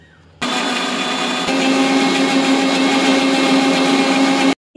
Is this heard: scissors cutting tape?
no